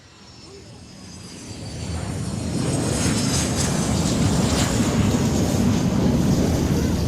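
A private jet arrives at Rendani Airport in Manokwari, its engine roar building from moderate to a loud, steady, broad rumble that holds for several seconds, close by, with no voices over it.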